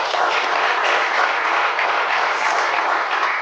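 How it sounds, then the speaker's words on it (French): Steady studio audience applause at a French game show, dense clapping held at even loudness throughout, with no voices over it. "Et ça mérite des applaudissements."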